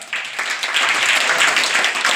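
Audience applause for the first-place student at a school Kala Mahotsav arts festival prize-giving, a dense steady clapping that starts sharply and holds at an even level for about two seconds.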